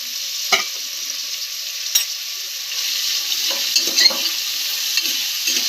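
Two large, finely chopped onions fry in a pan for a homemade mutton curry, giving a steady, bright sizzle with occasional spatula stirs and scrapes throughout.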